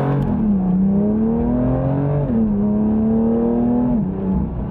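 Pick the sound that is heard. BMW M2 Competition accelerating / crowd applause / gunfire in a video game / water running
BMW M2 Competition accelerating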